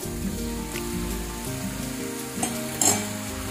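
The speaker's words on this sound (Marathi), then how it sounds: "आपल्याला एकदम हळूहळू आपल्या शेवया मिक्स करायच्या आहे" Vermicelli sizzles and crackles as it is stirred in a pan with tomato, salt and chili, a steady close-up frying hiss with a few soft scrapes near the end.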